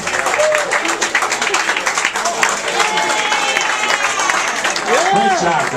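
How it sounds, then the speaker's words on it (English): A comedy club audience applauds a pair of stand-up competitors at a roast battle, steady dense clapping with cheers and whoops mixed in, loud and continuous throughout. "Let's clap it up for both these competitors right now before we even go to the judges"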